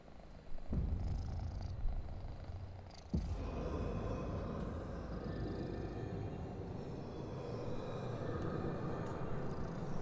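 A house cat purrs close by in a low, rumbling, rhythmic drone that runs almost the whole time, with faint game audio behind it and a couple of soft thumps early on.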